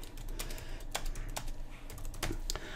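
Typing on a computer keyboard, a quick irregular run of faint, close key clicks with several sharper taps, no talk.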